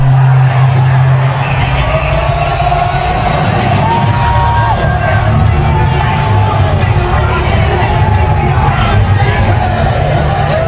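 Crowd noise at a UFC fight in Las Vegas, a loud, continuous roar of cheering, whoops and yells filling the whole stretch, dense and close, with some indistinct voices mixed in.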